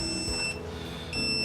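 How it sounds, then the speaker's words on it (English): An Arteck 2000A portable car jump starter, drained after three jump starts, gives off a steady electronic low-battery beep over a low background hum, a tone that breaks off briefly and then resumes. "That beeping you hear, I've drained it down where it wants me to recharge it."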